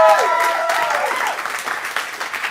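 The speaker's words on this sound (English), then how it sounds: "Big round of applause for Morgan J." Audience applause for comedian Morgan Jay at a live music and comedy show, loud at the start with cheering voices over the clapping, then settling into steady, slightly softer clapping for a couple of seconds.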